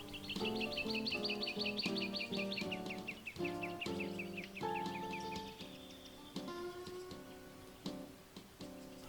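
Repeated bright chirps and squawks of cockatoos and parrots calling over a steady rhythmic ticking, fairly close and moderately loud, with no talking.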